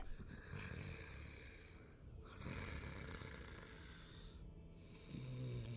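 Snoring from an unseen creature in the video game Dark Souls, slow rasping breaths rising and falling a few times, low and fairly faint beneath steady game ambience, with no talking.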